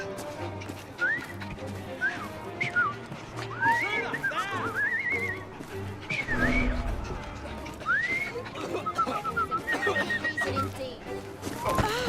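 A character in Assassin's Creed Syndicate whistles a wandering tune of short rising and falling notes, interspersed with talking voices and other game sounds.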